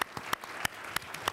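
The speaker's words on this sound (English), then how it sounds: "So let's give him a big round of applause." An audience applauds at an evening talk event, scattered individual claps popping out over a soft, steady patter of hands at moderate distance, with no talking.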